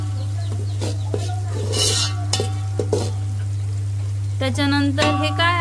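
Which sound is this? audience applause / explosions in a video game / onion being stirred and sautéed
onion being stirred and sautéed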